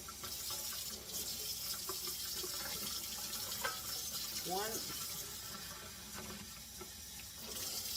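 Tap water pouring into a measuring cup in a home kitchen for cooking rice, a steady rushing splash with faint clinks, under brief quiet talk.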